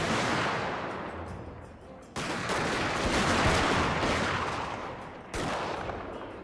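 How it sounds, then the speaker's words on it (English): Dense, continuous battlefield barrage of artillery and gunfire in the Fall of the Samurai strategy game, a loud roar of overlapping blasts with sharp onsets around two and five seconds, no talking. "Alright, artillery. Unleash absolute hell on them, please."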